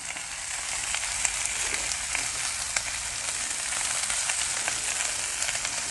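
Ribeye steaks sizzle loudly and steadily on a hot Blackstone flat-top griddle, a dense continuous hiss with small crackles and pops, close up and without talk.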